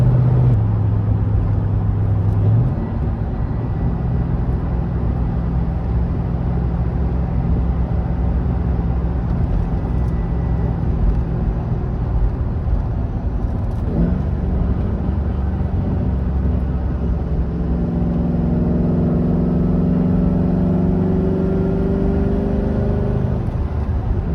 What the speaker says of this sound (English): I'll just let you listen to the car. I'll do some downshifting and stuff like that.